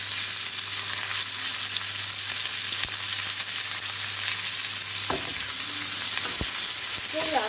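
Onion, curry leaves, chilli and garlic frying together in hot oil for a chilli fish dish: loud, continuous crackling sizzle with a few spatula scrapes and knocks toward the end.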